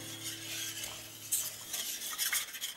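A spoon scrapes and swirls steadily around a pan of sugar and split vanilla pod for panna cotta, a soft continuous stirring sound close by.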